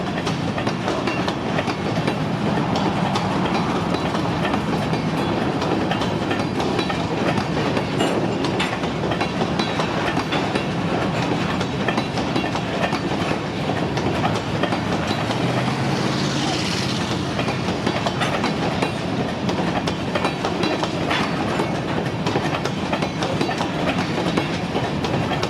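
A freight train of sand or grain cars rolling steadily past at close range, continuous rumble with repeated clickety-clack of wheels over rail joints and a brief squeal partway through, no voices.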